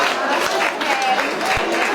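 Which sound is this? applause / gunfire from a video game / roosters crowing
applause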